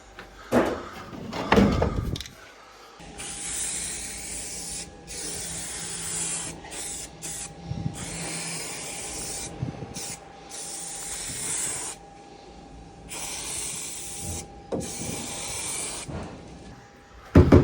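Several bursts of black aerosol spray paint on a Land Rover Defender 90, long hissing sprays a couple of seconds each separated by short pauses, fairly close, with a rattle or clatter at the start.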